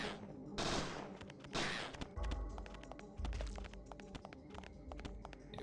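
Gunfire in the PS1 video game Parasite Eve 2, rapid bursts of shots and thuds in a close, dense rattle, with heavier low booms partway through.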